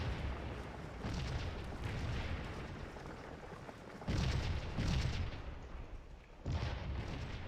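Soldiers opening fire in a Scourge of War black-powder battle: several rolling musket volleys boom and crackle at a distance, each swelling for about a second or two amid a constant low battlefield rumble.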